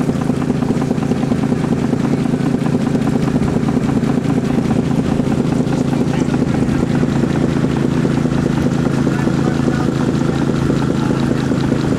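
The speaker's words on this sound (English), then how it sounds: "We have a dewatering pump set up at the launch pit here." Dewatering pump at a wet pipebursting launch pit beside a gravity sewer, a steady loud droning engine hum that runs unbroken throughout, with no talk.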